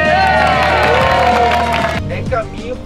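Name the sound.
applause and cheering from store employees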